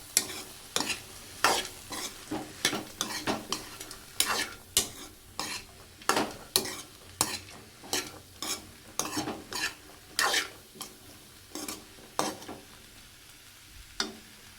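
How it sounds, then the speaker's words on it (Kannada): Cluster bean stir-fry (palya) being stirred in a pan, with a steady run of scraping, clinking spoon strokes over a faint sizzle, close and fairly even in rhythm, with no talking. "ಎಲ್ಲ ಹಾಕಿ ಮಿಕ್ಸ್ ಮಾಡೋಣ."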